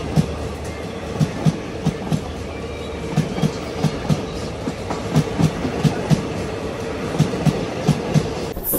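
Kolkata–Sairang Express train running over bridges and through tunnels in hilly country, its wheels beating a steady clickety-clack rhythm of regular rail-joint knocks beneath a continuous rumble, heard from inside the carriage with no voices.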